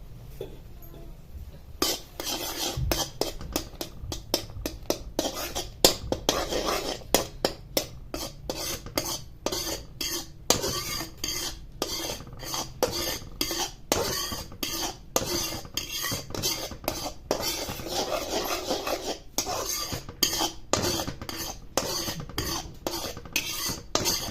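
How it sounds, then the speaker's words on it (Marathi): Milk and milk powder are stirred in a pan for carrot halwa with a spoon, which scrapes and clinks against the pan in quick, steady, irregular strokes up close for the whole stretch, with no talking. "सारखं स्टर करत राहायचे जेणेकरून हे आटलं जाईल दूध आणि आपला खवा तयार होईल"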